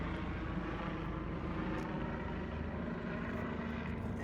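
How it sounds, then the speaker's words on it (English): A low-flying helicopter passes overhead as a steady, faint rotor drone, constant throughout with no talk. "It sounds like a helicopter."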